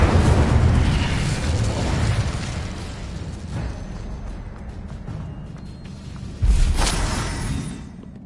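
The Incendio fire spell going off in the video game Hogwarts Legacy, a loud fiery whoosh and burst followed by rumbling decay, with a second sharp blast partway through.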